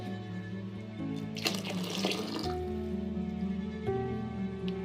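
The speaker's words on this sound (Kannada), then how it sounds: "ಇನ್ನೊಂದು ಸ್ವಲ್ಪ ತೆಳುವಾಗಿ ನಾನು ನೀರು ಹಾಕ್ಕೊಳ್ಕತ್ತೀನಿ" Water pours into a pot of sprouted green gram sambar in a steady splashing burst, over soft background music with no speech.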